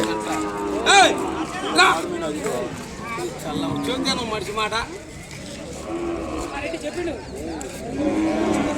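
A calf moos several times at a busy cattle market, its calls rising over steady chatter and nearby voices.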